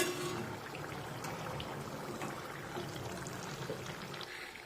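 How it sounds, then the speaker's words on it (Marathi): Chakli made from jowar flour fries in hot oil, a steady, soft, bubbling sizzle that runs on without a break and stays fairly faint throughout, with no voices. "आता उलटपुलट करत दोन्ही बाजूने चकल्या छानपैकी तळून घेऊया"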